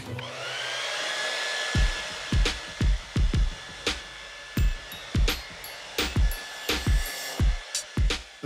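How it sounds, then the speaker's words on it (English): A Dyson Supersonic hair dryer blows a steady, close rush of air for about two seconds, then gives way to a run of short, sharp clicks and bursts. "this is the smartest hairdryer ever built"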